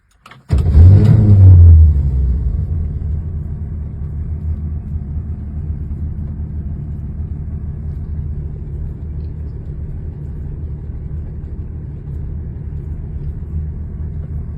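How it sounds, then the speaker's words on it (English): A classic American muscle car with a 383 engine and automatic transmission fires up with a loud roar, then settles into a deep, steady, rumbling idle heard close up for over ten seconds. "The previous owner put in a 383 engine, so she roars."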